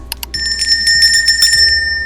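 A bright notification bell chimes, opening with two quick taps and then ringing out in a sustained shimmering tone, loud and close with no talk.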